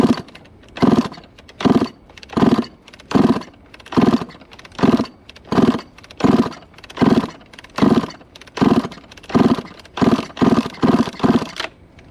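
Kawasaki KX two-stroke motocross engine cranked over during a compression test with the throttle open, giving a steady series of about sixteen evenly spaced, loud, close chugging strokes with no talk.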